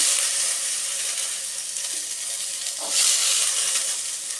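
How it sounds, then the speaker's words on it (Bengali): Carrots and green peas fry in a pan for a vegetable dal, giving a steady, fairly loud hiss of sizzling oil that swells slightly near the end. "এর মধ্যে আমি কিছু মটরশুঁটি দিয়ে দিচ্ছি মটরশুঁটিটাও ভাজা হয়ে যাবে"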